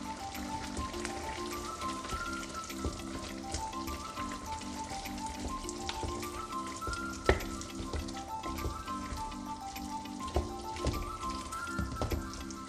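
Sweet and sour chicken sauce thickened with cornstarch simmers in a pan, a steady close sizzle and soft bubbling running unbroken, with a melodic tune playing quietly beneath and a few light clicks.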